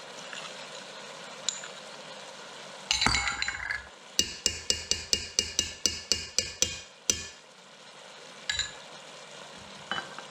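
Tomato paste being stirred into a lasagna sauce of diced tomatoes with a metal spoon, giving a quick run of about ten sharp, evenly spaced scrapes and taps against the pot after a burst of stirring, over a faint background sizzle.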